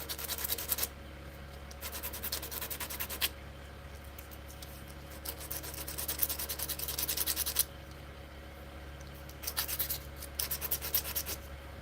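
Hand sanding the base of a spalted hickory lidded box with 180 and 120 grit sandpaper, a close, steady rubbing scratch in several bursts with short pauses between strokes, no talking.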